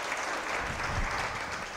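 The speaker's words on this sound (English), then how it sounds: "Let's give a round of applause for those people." Audience members in a seated hall clap for cancer survivors, a short, even spell of steady hand-clapping.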